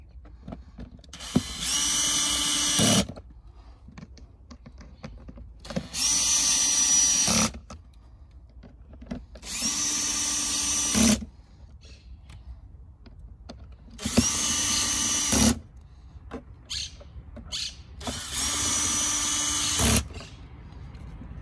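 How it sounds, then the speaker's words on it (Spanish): A power drill or driver tightens the screws on the air filter cover of a Skoda Superb 2.0 TDI 190 CV DSG 4x4, in five loud, close whirring bursts of two to three seconds each, separated by short pauses. "a continuación ya solamente nos quedaría apretar los tornillos."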